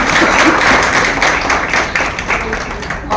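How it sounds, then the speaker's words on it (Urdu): Loud, close audience applause in a packed hall, dense overlapping clapping that holds steady for a few seconds with slight swells and dips. "ایک بار زوردار تالیاں ہونی چاہیے"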